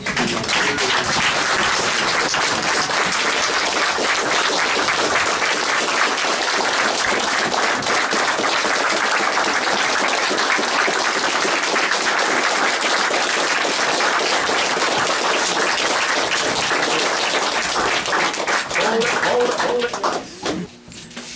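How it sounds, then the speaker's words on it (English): Sustained audience applause fills an aviation awards ceremony, a dense, steady roar of clapping from a standing crowd that carries on for about twenty seconds before tapering off at the end. "let's have a little round of applause"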